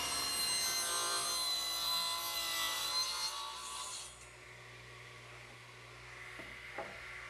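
A hand saw cuts a wooden strip to length for a bookcase face frame, a steady rasping stroke for about four seconds before it fades into quiet workshop room tone with a couple of faint knocks.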